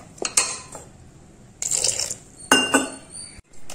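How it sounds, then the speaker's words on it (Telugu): Pearl millet dosa batter with water and a little soda is stirred in a bowl, giving three short bursts of close clinking and scraping against the bowl, separated by quiet gaps. "దోసలు వచ్చేంత వరకు కొంచెం దోస పిండి కలుపుకుందాం"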